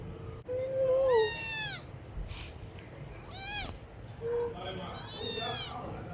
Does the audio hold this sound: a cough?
no